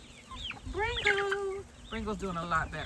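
A Wyandotte-type hen in a backyard coop makes close, repeated clucks and warbling calls, with a person talking over part of it.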